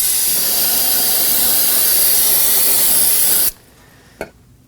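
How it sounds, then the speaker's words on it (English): A loud, steady aerosol hiss of brake cleaner spraying for a few seconds around a Nissan Sentra's rear brake hose area, then it cuts off, followed by a small click. "I'm gonna go ahead and get some brake cleaner, spray the area down"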